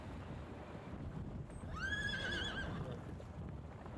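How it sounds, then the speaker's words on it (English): Mongolian horse giving a single brief whinny, faint and distant over wind and outdoor rumble. "but the Mongolian horse."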